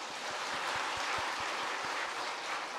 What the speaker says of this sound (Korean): 우리 참 아름답게 우리 은혜롭게 찬양했던 찬양들을 위해서도 한번 박수할까요?